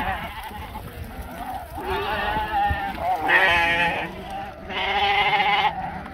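Several lambs bleat in turn, high wavering cries rising over a low outdoor background, some close and loud, others softer.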